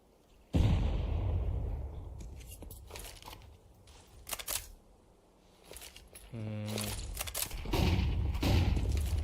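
Gunfire crackles through a competitive video game match, with sharp shots and short bursts scattered unevenly at mid distance and a quick rattling spray among them, under and between a commentator's voice.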